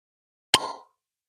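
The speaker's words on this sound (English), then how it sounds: "Pretty nice cork pop there" A single short, clean pop as the cork is pulled from a bottle of Mossburn Island blended malt whisky. It sounds close and sharp, and silence follows.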